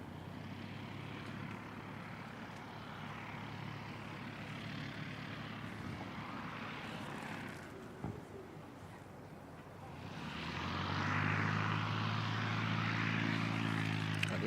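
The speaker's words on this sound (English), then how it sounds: "There is an ATR heading out off up to Wellington, NZ 5350." An ATR turboprop departs Christchurch airport bound for Wellington, its propeller engine drone faint and distant at first, then swelling louder with a steady low hum as it powers away.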